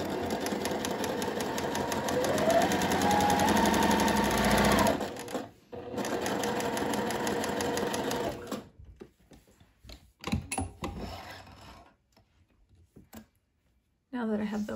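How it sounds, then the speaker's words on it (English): A sewing machine runs rows of gathering stitches on a sundress ruffle, a rapid steady mechanical whir for about five seconds, then a second run, followed by quieter handling clicks, a pause and a short restart. "then I'll sew another row of gathering stitches"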